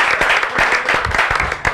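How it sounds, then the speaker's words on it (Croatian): Studio audience applause on a Serbian television music show, a dense wash of clapping that runs steadily for the whole short stretch at fairly close range. "Molim vas, aplauz."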